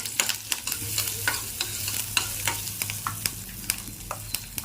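Mustard seeds and curry leaves fry in hot oil, sizzling continuously with sharp, irregular pops and crackles of bursting seeds, close and fairly loud, while a spoon stirs the pan.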